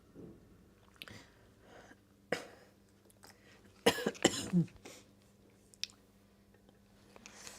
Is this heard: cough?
yes